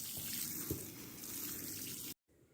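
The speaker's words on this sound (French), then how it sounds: "Comme d'habitude, je termine par un bon arrosage" Garden watering over a May vegetable patch where soy and beets are being planted: a steady, fairly faint hiss of water spraying and splashing, with one small bump partway through, then an abrupt stop followed by quiet background.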